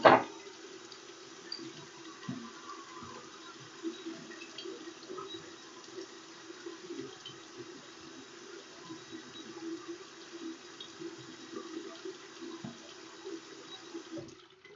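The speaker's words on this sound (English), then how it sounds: "Rinse my hands off." Tap water runs steadily from a faucet as hands are rinsed at a sink, a soft continuous splashing hiss lasting throughout with small irregular spatters.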